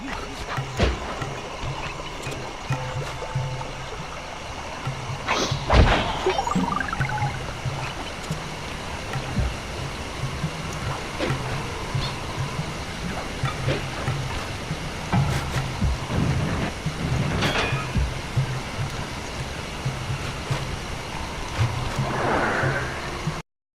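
A waterfall near a temple in Sly 2: Band of Thieves, a steady rushing wash of water with a few scattered clanks and thuds on top, with no talking.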